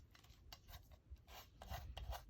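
Ink being rubbed onto a paper mermaid craft tag, heard as a series of soft, close scratchy strokes that repeat in an uneven rhythm.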